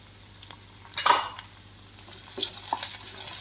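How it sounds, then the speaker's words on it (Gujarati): Onion, carrot and capsicum stirred in a pan for vegetable pasta: a quick scrape and clatter of a spoon against the pan, then a few lighter clinks and soft sizzling, close and fairly quiet, no talking. "ઉપર નીચે કરતું જવાનું છે અને આપણે હલાવતા જવાનું છે"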